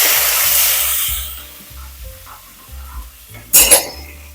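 Curry leaves and chillies hit hot oil for a tomato-mango curry, giving a loud, close hiss of frying that fades within about a second. A brief sharp sizzle flares up again near the end.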